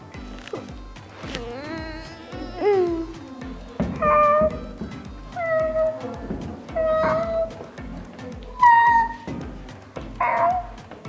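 An 11-year-old child performs a cat sketch at a drama casting, imitating a cat's meows with a voice. About seven mewing calls, some rising and wailing, come at irregular intervals. A steady rhythmic beat plays beneath them.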